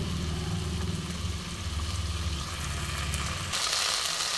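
Fish curry ingredients being sautéed in a pan over a flame turned from low to medium, a steady, continuous sizzle with a low, humming drone running underneath throughout.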